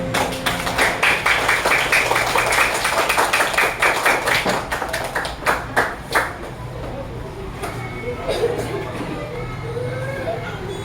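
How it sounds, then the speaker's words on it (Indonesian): A group claps hands together in a lively burst at the end of a coaching training session, thinning out after several seconds, followed by quiet murmuring voices in the room. "kasih tepuk tangan untuk kita semuanya"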